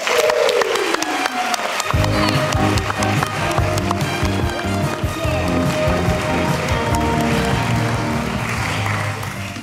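Audience applause greets managers being welcomed onstage at a Miss or Mister Manager contest at a business school, starting after a quiet opening and running loud and steady alongside a strong rhythmic music beat.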